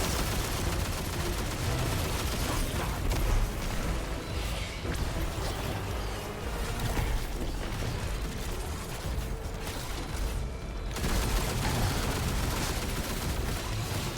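Dense, continuous weapon fire from a video game boss fight, with rapid mechanical clatter and bursts of shots layered into a loud, sustained din that breaks off briefly near the end before resuming.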